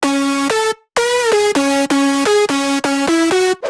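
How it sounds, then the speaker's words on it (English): A dry future house synth lead with no effects plays a bright, buzzy melodic riff of short, clipped notes that step in pitch, loud and upfront, with one brief gap early on and no talking. "So leads without effect sounds like this."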